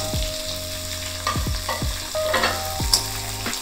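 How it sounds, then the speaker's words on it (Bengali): A pan of mixed vegetables for labra, including papaya, radish and pumpkin, sizzles loudly as it is stirred and fried, while rhythmic music thumps underneath. "এবার সব কটা সবজি একটু খুব ভালো করে নেড়ে কুক করে নেব।"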